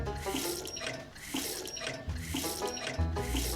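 Water pours steadily from a tap in the game Trailer Park Tycoon: Raccoon Ranch, a continuous running stream with faint music underneath, close and fairly loud throughout.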